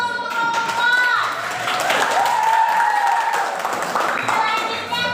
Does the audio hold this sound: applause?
yes